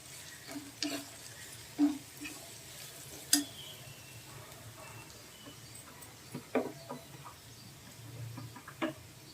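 Onion frying in a pan gives a faint, steady sizzle, with soft spatula scrapes and taps at irregular intervals, close and quiet.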